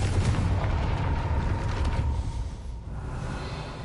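A Confringo fire spell goes off in Hogwarts Legacy to open a gate, a loud close rumbling blast that holds steady and then fades slightly toward the end.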